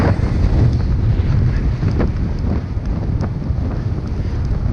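A headwind buffets the microphone on a winter road bike ride in the Lincolnshire Wolds, a loud continuous rumbling roar with gusty surges, close and constant throughout.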